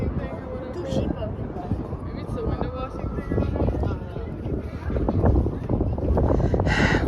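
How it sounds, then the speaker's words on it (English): Gusty wind buffeting a microphone outdoors in New York City on a chilly day, a steady low rumble that swells and fades, with voices speaking over it. "it's getting a little windy"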